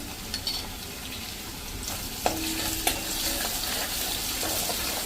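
Chopped onions with ginger-garlic paste cook in a pan over a medium flame, a continuous close sizzle with occasional scrapes and clinks of a spoon stirring against the pan.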